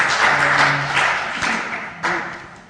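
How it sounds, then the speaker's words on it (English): An indoor audience at a social media cafe event in Liverpool claps for the organisers in a short, close burst of applause that fades within a few seconds. "A round of applause for the organisers, I think."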